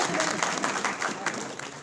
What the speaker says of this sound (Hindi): जोरदार तालियां आदरणीय मांगीलाल जी को।